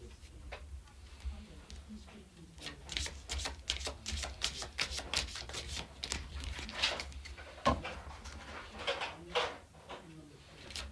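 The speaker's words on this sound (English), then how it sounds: "And yes, I'm shuffling with my left hand, guys, I know." Tarot cards being shuffled by hand during a psychic reading, giving a steady run of soft papery riffles and taps, moderately quiet, with a low background hum throughout.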